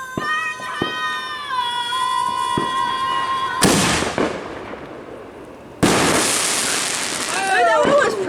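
A 44 Magnum firework fires outdoors during a fireworks show: a whistling rise gives way to two sharp, loud bursts several seconds apart, with crackling tails and a faint chirp afterward.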